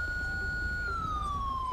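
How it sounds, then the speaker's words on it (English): A police car siren in GTA V with the LSPDFR mod wails in one steady, loud tone that slides gradually downward and is heard alone. "Let's get our siren off."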